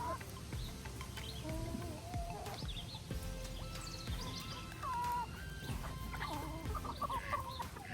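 Several chickens cluck and call in an outdoor flock around a coop, including newly introduced birds, with overlapping short calls and chatter spread across the scene at moderate distance over a steady background.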